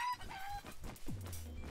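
A chicken crows in the Palworld video game, a brief cock-a-doodle-doo with clucking over a busy, noisy game background.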